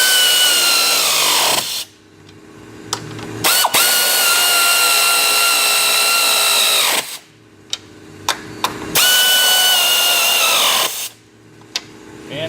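Power tool tightening the strut top mount nuts on a 2001 Oldsmobile Intrigue, heard as loud, sustained whirring runs of several seconds each, broken by brief pauses and clicks.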